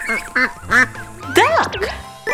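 Several loud, nasal duck quacks sound close by in quick succession, some short and some drawn out, with no other sounds around them.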